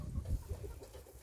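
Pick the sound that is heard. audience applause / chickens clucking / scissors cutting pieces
chickens clucking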